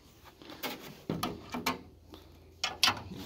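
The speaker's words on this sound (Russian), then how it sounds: "Замок нового типа." Mechanical clicks and knocks as a new-type lock on a polycarbonate greenhouse door is worked, several short sharp rattles close to the microphone, moderately faint, with no talking.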